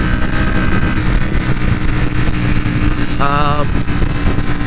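A 2020 Ducati Panigale V4 R engine droning loud and steady as it shifts gears with a quick shifter, a brief rising whine near the end, no talk.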